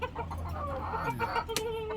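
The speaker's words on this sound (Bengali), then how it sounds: "এটা হলো ফার্মি মুরগি" Farm chickens, part of a small backyard flock of six laying hens, cluck close by in a steady stream of short calls, with a brief louder squawk near the end.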